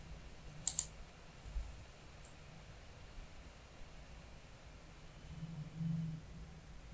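A mouse clicks twice in quick succession on a desktop menu option, sharp and close, followed later by a single fainter click against quiet room hiss.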